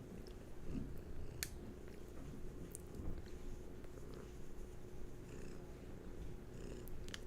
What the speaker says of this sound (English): yeah, you brought purrs.